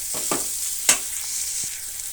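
Green chilies fry in a hot pan for upma, giving a steady sizzling hiss with a few scraping stirs of a spoon, close and alone.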